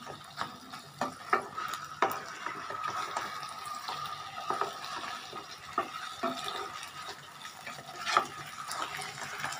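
Corn flour mixed with a quarter glass of water is stirred in a bowl, producing a steady wet swishing with repeated soft clinks of a utensil against the sides, close and moderately loud.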